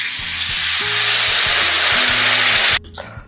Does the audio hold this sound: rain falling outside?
no